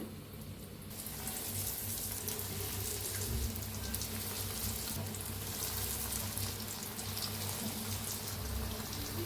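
Bread potato pakoras sizzle and crackle steadily in hot oil, a dense continuous frying hiss that holds close and even from start to finish with no talking.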